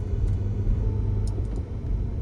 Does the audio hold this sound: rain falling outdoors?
no